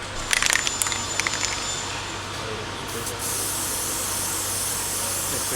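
A can of spray adhesive sprays in short hissing bursts, then settles into one steady, continuous hiss close by.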